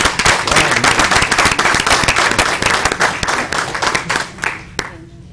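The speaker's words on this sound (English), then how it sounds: "So we want to give a big thanks and round of applause for Ryan." Audience applause at a school board general committee meeting, dense steady clapping from many hands that loosens and thins toward the end, with a few sharper isolated claps.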